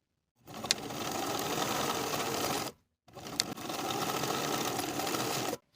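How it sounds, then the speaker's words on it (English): Sewing machine stitching the shoulder seams of a lined vest at a 5/8 inch seam allowance, running in two steady bursts of about two seconds each, separated by a short pause, fairly quiet and close. "Sew the shoulders with a 5/8 inch seam allowance and press the seams open."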